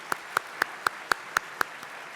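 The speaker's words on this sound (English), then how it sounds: "Can we give them all a big round of applause?" Clapping for sponsors at a summit networking dinner comes as seven evenly spaced, crisp claps in a steady rhythm, fairly close over quiet room tone, with no voices.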